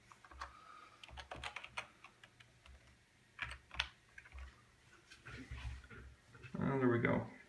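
Fingers tap out a password on a computer keyboard in short, uneven bursts of close clicks, with a brief voice-like sound near the end.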